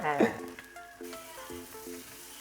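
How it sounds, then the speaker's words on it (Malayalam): Onions frying in a pan in a home kitchen, a soft sizzle at the start, then quiet with faint tonal background sounds over the rest. "സവാളയൊന്നും അധികം മൂപ്പിക്കേണ്ട കാര്യമില്ല."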